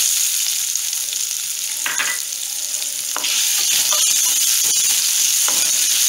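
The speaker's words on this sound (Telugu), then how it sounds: "సో అది కొంచెం గోల్డెన్ కలర్ వచ్చేదాకా ఫ్రై చేసుకుందాము." Onions frying in oil with curry leaves and turmeric for capsicum curry, a steady close sizzle with a few scraping stirs of a spoon in the pan, no voices.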